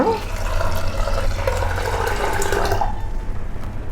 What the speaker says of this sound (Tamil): இப்போ இதுக்கு தண்ணி ஊற்றிடலாங்க